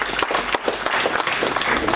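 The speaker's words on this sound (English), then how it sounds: "I believe we deserve a round of applause for ourselves" An audience at a banking event breaks into applause, a close, dense burst of clapping over the whole short moment, with some voices underneath.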